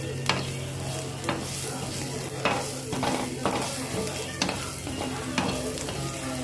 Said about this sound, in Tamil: நம்ம இஞ்சி நல்லா, பூண்டு, சின்ன வெங்காயம்லாம் நல்லா வதங்கிடுச்சு